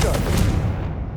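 In Hogwarts Legacy, a Confringo blasting spell lands as one loud, booming burst. The blast rumbles on and fades over about a second.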